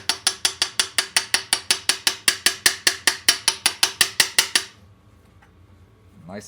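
A 1.25-inch socket is tapped to seat a seal into an old Marzocchi bike fork: about twenty quick, evenly spaced metallic taps in a steady rhythm, close and crisp, then sudden quiet.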